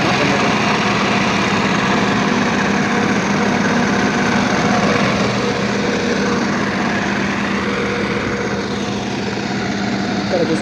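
An Ashok Leyland diesel generator runs continuously, a loud, dense, steady engine drone with mechanical vibration that holds at an even level throughout, heard close up.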